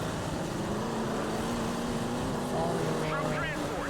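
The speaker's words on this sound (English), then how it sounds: "Listen to that engine." A military vehicle engine in the Broken Arrow strategy game, a steady loud drone with tonal whine under continuous game noise, with a brief rising whistle near the end and talk over it.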